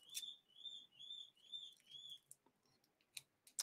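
Birds chirp in the afternoon with a repeated high, clear whistling call of four or five notes, followed by a few sharp clicks and short chirps, faint and slightly distant.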